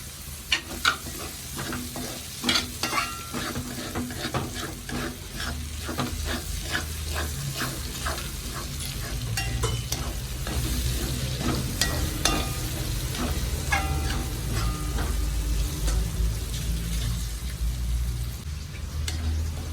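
Chopped mild green chillies, the sambar variety, fry in an oil-filled pan for an instant ginger curry, with a steady sizzle broken up by repeated clinks and scrapes of a stirring spoon throughout.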